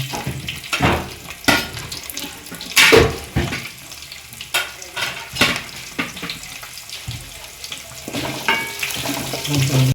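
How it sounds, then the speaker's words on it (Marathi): Cumin, chili, bay leaf, ginger and garlic frying together in a pan for restaurant-style palak paneer, a loud, close sizzle broken by repeated scraping and stirring strokes. "जिरे मिरसांग आणि बे लीफ आणि आले लसूण सगळे बरोबर घालतो."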